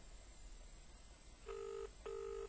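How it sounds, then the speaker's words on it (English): A telephone call rings out to a police station in Auckland, New Zealand, two long ringback tones after a brief dialing pause, with steady line hiss beneath. "just ringing Mike Clement, Auckland District Commander"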